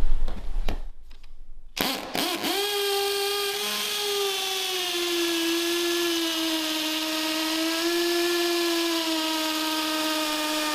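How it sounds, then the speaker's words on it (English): A hammer drill on hammer setting, drilling into concrete, whines up to speed and holds a steady, high-pitched drone for several seconds, close and fairly loud with no talking. "make sure the drill that you're using is on the hammer setting"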